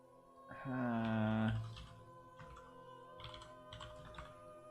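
Typing on a computer keyboard during game development work: soft, sparse key clicks in short clusters, close by and quiet, following a brief tonal hum near the start.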